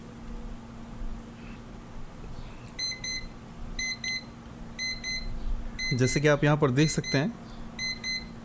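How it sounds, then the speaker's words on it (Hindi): The alarm of a digital room temperature and humidity meter beeps in short repeated clusters of high electronic tones while a person talks over part of it. "11:45 में अलार्म बजना शुरू हो चुका है।"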